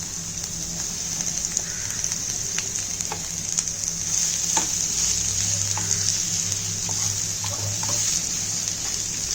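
Sliced onions sizzle steadily in hot oil with sautéed garlic, chilies and ginger, a dense, constant frying hiss with faint stirring clinks scattered through, close and fairly loud, with no voices.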